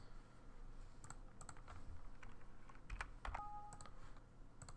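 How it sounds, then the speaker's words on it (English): Close computer keyboard typing, quick clusters of clicky keystrokes with brief pauses, over a low steady room hum. "So right here, let's type in test space test"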